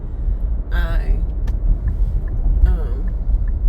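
Steady low road rumble from inside a moving car, loud and continuous, with a voice speaking briefly over it.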